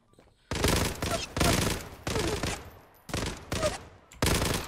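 Gunfire from the Zula online shooter, a glock-style weapon firing in six loud bursts of rapid shots separated by short pauses, close and dominant with no talking over it.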